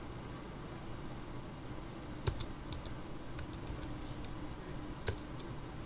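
Computer keyboard keys pressed to redefine game controls on a retro game, scattered sharp clicks with a couple of firmer taps, heard close over a steady hiss with no talking.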